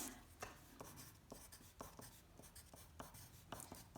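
Writing by hand while working a math problem, a quick scratchy series of pen strokes on paper, close and fairly faint, with regular short scrapes and no voice.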